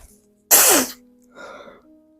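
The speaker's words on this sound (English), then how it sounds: "That was a wild sneeze." A person's sneeze bursts out sharply and loudly at close range, followed a beat later by a softer, shorter second sneeze or gasp, with no talking.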